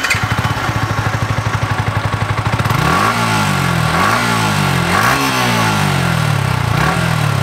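A Yamaha R15 V3 motorcycle fitted with a Daytona exhaust idles with a loud, rapid, throbbing putter, then revs up in several rising and falling throttle blips, close and alone.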